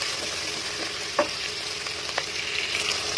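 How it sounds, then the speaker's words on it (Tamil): Onions fry in a pan on medium-high heat for mutton biryani alongside whole spices, a steady close sizzle with a couple of sharp spatula knocks and stirring scrapes. "வெங்காயம் போட்டுக்கலாம் நல்லா கலர் விட்டுங்க நல்லா ஃப்ரையாக ஆகட்டும்"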